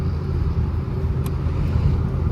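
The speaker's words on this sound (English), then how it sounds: "I'm excited to drive the old van today." A 1978 Ford F100 short-bed van driving, its engine giving a steady low rumble with road noise from inside the cab, loud and continuous, no voices.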